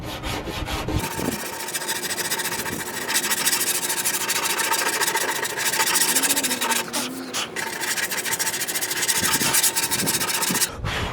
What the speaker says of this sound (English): with just 80 grit sandpaper, I'm going to be focusing on where the filler is going to be, and I'm just going to sand it all the way down